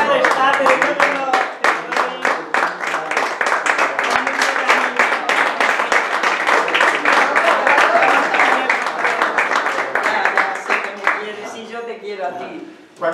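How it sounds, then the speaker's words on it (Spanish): An audience applauding, loud dense clapping sustained for several seconds and fading near the end, with speech underneath. "permítanme que les agradezca esos aplausos tan generosos con que ustedes me brindan"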